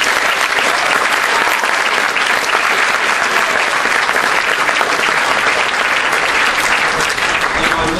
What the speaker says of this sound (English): I'd like to hope you'll join with me now in just applauding them one more time to say thank you.